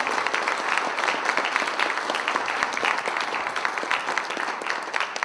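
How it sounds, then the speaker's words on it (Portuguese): A crowd at a Python conference keynote applauds steadily and loudly, a dense, sustained clapping that carries on throughout without pause. "Uma salva de palmas."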